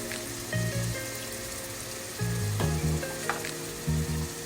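Spice paste for an eggplant and hilsa curry fries lightly in a pan with a soft, steady sizzle and a few stirring clinks, heard close and without talk.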